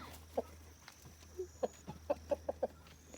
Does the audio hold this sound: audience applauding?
no